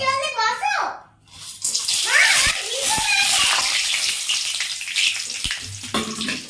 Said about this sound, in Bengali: আমি এই সমস্ত মশলাগুলোকে, যেটা রয়েছে মশলাগুলোকে তেলে দিয়ে দেবো